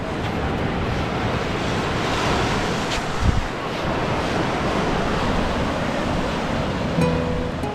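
Sea surf rolls steadily onto the shore near Negombo, Sri Lanka, a loud, dense wash of breaking waves mixed with wind buffeting the microphone, continuous and close with no voices.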